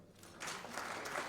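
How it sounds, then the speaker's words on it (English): An audience applauds at a public speech event in Kenya: a steady wash of clapping that swells after a soft start and holds loud to the end. "Let's clap for them."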